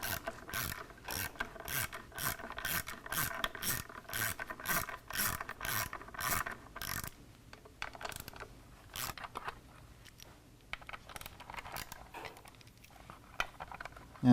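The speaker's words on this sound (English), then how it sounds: "The next tool we need is a T27 Torx, and there's 3 screws here that go right through the air cleaner and through the back plate into the throttle body" Ratchet clicking as three T27 Torx screws are backed out of a motorcycle air cleaner, passing through the back plate into the throttle body: fast, steady bursts of pawl clicks for about seven seconds, then sparser, quieter clicks and handling noises, close up.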